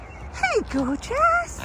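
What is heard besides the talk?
dog barking at goats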